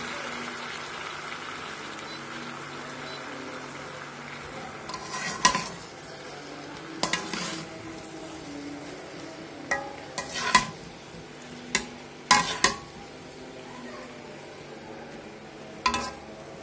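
Fresh spinach is stirred and fried in a pan over a low background sizzle, with a series of sharp metal spoon scrapes and clinks against the pan at irregular intervals.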